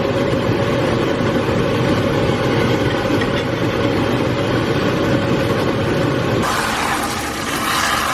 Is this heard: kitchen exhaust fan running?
yes